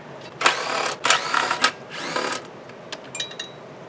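A power tool backs out bolts on a standard Briggs & Stratton gas tank of a Craftsman lawn mower, heard as several short whirring bursts with pauses between, close and fairly loud.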